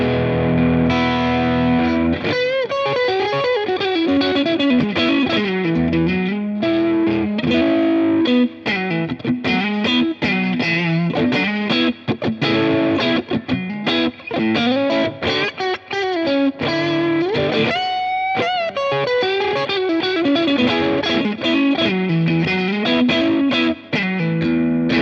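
Overdriven electric guitar through a JPTR FX Kaleidoscope spring reverb pedal plays chords and riffs continuously, with a gritty tone and a wash of reverb trailing each phrase; no talking.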